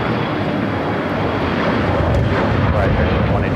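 A jet airliner roars down runway 25 right at LAX on its takeoff roll, a loud, steady broadband rumble heard from nearby, with a voice talking faintly beneath it.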